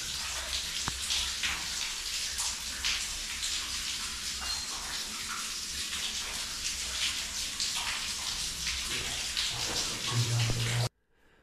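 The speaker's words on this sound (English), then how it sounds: "It can be very dry outside and you'll still get an inflow of surface water." Surface water pours steadily into a tunnel on a riverbank, a continuous splashing gush like a running tap that holds for about eleven seconds before cutting off abruptly.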